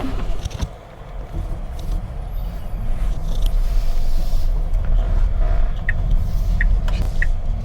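A Tesla Model Y Juniper electric car drives with a low steady road rumble and tire noise, swelling slightly as it gets under way, with small clicks and no talking.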